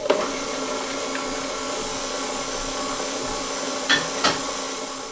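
A stand mixer whirs steadily while beating carrot cake batter, a close, constant motor drone with a couple of brief knocks near the end.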